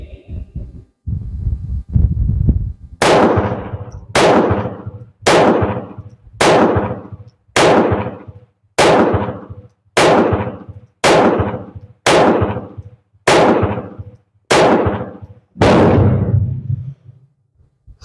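About a dozen shots from a surplus .32 Beretta pistol firing handloaded reloads, loud, sharp reports spaced roughly a second apart, each with a short ringing decay, after some low handling noise at the start.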